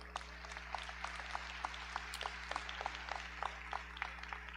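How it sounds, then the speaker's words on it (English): Graduates clap at Monroe Community College's 2023 commencement ceremony, light scattered claps heard faintly over a steady low electrical hum, with no talk on top. "I just want you to give yourselves a round of applause for all of your hard work"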